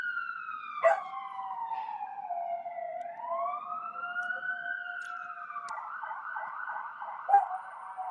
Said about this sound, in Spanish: Ahí está sonando de nuevo la sirena.